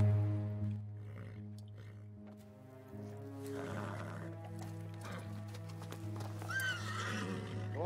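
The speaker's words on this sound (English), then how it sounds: "when I say the ride gets rough, that means when he's bucking like this kid" A horse bucks and neighs in the Western series Godless, with a loud whinny and scattered hoof thuds and clip-clop, under dramatic background sound.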